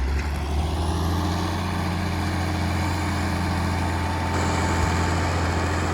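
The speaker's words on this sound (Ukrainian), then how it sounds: "трактор йде гарно, передача третя, третя, хто розуміє" MTZ 1221 tractor ploughing garden plots in third gear, its heavy diesel engine giving a loud, steady low drone that runs unbroken from start to finish, with no voices over it.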